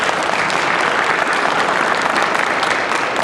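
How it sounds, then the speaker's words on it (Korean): Dense, steady applause from a church congregation at an all-member retreat, loud and continuous for its whole length with no voices over it. "박수 한번 해주세요."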